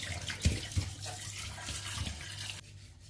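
Fish rinsed under a running tap with salt and lemon juice, a soft steady stream of water with a few splashy knocks, fairly quiet, ending abruptly.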